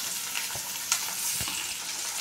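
Chopped tomatoes sizzle and fry in a pan while being stirred, making a steady hiss with a few soft scraping strokes and a light clink, close and moderately quiet.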